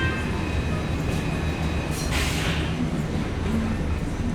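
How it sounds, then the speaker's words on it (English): A Toronto subway train on Line 1 rolls through a station with a loud, steady rumble of wheels on rails and a brief hiss partway through, no voices over it. "So this was a southbound train that rolled in and now it's a northbound train."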